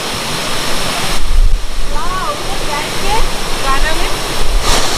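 Sitakund waterfall in Odisha roars as a steady broadband rush of falling water close by, continuous throughout, with excited voices speaking over it.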